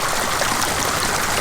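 Hot water pours steadily into a backyard fish pond from a campfire-heated survival water heater, a continuous close rushing stream with no pauses.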